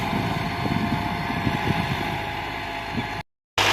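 A 2017 Massey Ferguson 385 tractor engine with a cultivator rumbles steadily, running continuously, loud and close, with a brief cut to silence near the end.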